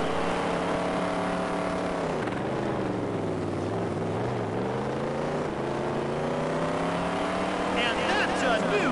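Engines of dirt track race cars in the Dirt Track Racing 2 video game drone loudly and continuously, their pitch rising and falling as the cars accelerate and lift through the laps, with a voice talking over them.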